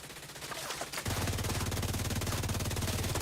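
Sustained automatic gunfire in the shooter game The Division 2 starts abruptly after a second of quieter action and continues as a rapid, loud, even stream of shots to the end.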